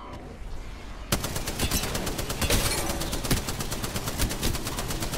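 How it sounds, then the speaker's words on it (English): Rapid automatic gunfire in the Apex Legends battle royale shooter, loud dense bursts of shots starting suddenly after a quiet second and continuing without pause. "I'm being shot by a Valkyrie"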